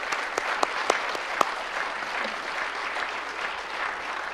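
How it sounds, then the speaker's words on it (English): An audience at a 2024-2025 honor society induction ceremony applauds the 2025 class, a dense, sustained clapping with a few sharp individual claps near the start, steady throughout and moderately loud. "how about a round of applause for our 2025 class?"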